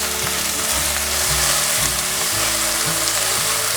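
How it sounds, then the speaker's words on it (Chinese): Seitan being stir-fried in a wok, a loud continuous sizzle with the rhythmic scrape and toss of a spatula against the metal, close up, with no talking. "快速的翻炒"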